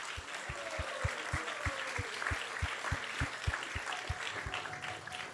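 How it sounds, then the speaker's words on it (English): A temple congregation gives a round of applause over a steady, evenly paced beat of low thumps, likely a drum, with the clapping moderately loud and continuous. "let's give them a big round of applause"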